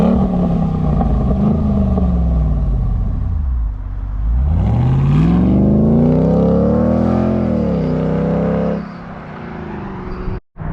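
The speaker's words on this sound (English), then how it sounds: "He's gonna rev it up, then launch it." A Jeep SRT8 WK1 fitted with a Corsa exhaust revs loudly, its engine note swooping down and back up, then climbing hard as it launches, before cutting off abruptly near the end.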